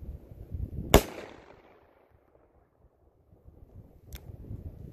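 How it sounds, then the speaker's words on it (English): A rifle fires once at a 500-yard target outdoors, a single sharp, loud crack followed by a fading echo under wind noise, with a fainter click or report a few seconds later. "Maybe the first one, I'll shoot low intentionally here and see."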